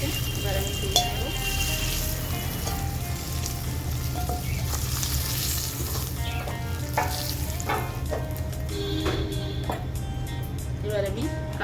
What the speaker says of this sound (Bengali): এই কাঁকড়াগুলো ভাজা হয়ে গেছে, এবার আমি তুলে নেব।